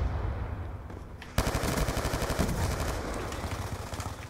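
Sustained automatic gunfire in Call of Duty: Black Ops 2, dense rapid bursts that start abruptly and continue loud and close, with overlapping shots and a rumbling low end throughout.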